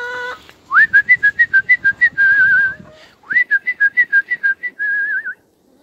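A person whistles two bursts of rapid, chirpy trills that rise and then warble, clear and close, with faint clucking underneath.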